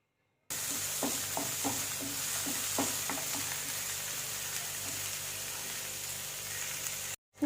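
Onion, garlic and green chilies sauté in a pan with a steady close sizzle, and a few spoon taps and stirring knocks come early on, with no talking.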